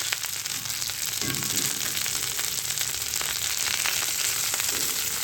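Tempeh with spring onion, coriander stems and green chilli sautéing in a pan over low heat, giving a steady, close sizzle with faint stirring scrapes throughout.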